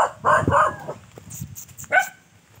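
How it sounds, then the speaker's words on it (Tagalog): Dogs at a house bark in a few sharp, close bursts with gaps between them, over faint background noise. "Yan po yung mga aso nila nag-usig."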